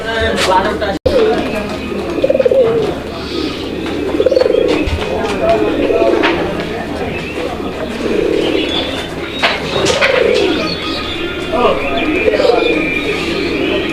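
Deep, rolling coos of Gorra pigeons repeat one after another, several birds close by, with people talking over and between the calls.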